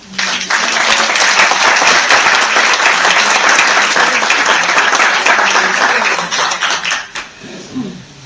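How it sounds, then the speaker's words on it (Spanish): Dense audience applause at a conference talk in Spain, loud and sustained for about seven seconds before thinning into scattered claps and murmurs. "le vamos a dar un cariñoso aplauso"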